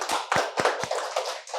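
A few scattered claps from a church congregation during a Sunday sermon, four or five sharp hand strikes over a wash of room noise, a short burst of applause rather than a sustained ovation.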